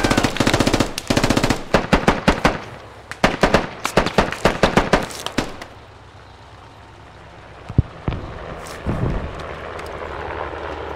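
Gunfire in the military shooter game Squad, with loud, close rapid bursts of automatic fire over several seconds, then a lull of scattered distant shots and a few heavier single blasts, and no talking.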